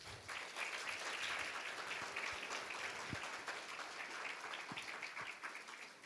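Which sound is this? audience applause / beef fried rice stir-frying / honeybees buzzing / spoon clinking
audience applause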